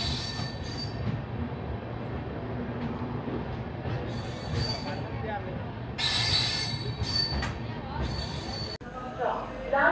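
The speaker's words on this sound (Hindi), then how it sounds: "यहाँ पर कोई ट्रेन खड़ी है, इसे शायद ओवरटेक करेगी हमारी ट्रेन" Passenger express train running on rails, with loud wheel squeal in bursts over steady rolling rumble, heard from on board while a voice talks.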